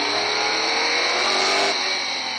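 Formula 5000 race cars on Avon tyres, roughly 600 horsepower, braking into a corner at a circuit; a loud, sustained engine roar with a whining tone that shifts pitch briefly, without voices.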